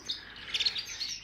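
A brown Gloster Corona canary chirps nearby in a run of short, high, bright tweets, fairly soft and clear with no voices over it.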